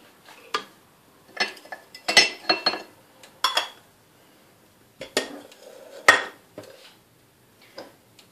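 Three spoonfuls of ghee go into a pan for orange halwa. Sharp metallic clinks and taps of a spoon against the pan come in irregular bursts, close and clear, separated by near silence.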